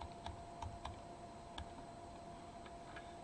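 Someone types on a computer keyboard at a quiet desk, with soft scattered key clicks in an irregular rhythm over a low background hiss.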